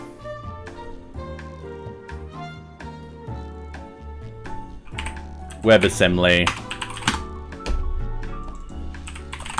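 Rapid keystrokes on a computer keyboard during a Python and JavaScript web development coding session, an irregular clatter running under steady background music, with a brief spoken word and a louder burst of typing near the middle.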